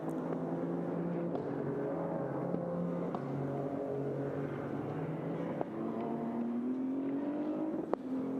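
A prototype race car on a qualifying lap at the Nürburgring drones steadily, its engine note slowly rising and falling as it shifts and accelerates. The sound is continuous and moderately distant, with faint clicks and no voices.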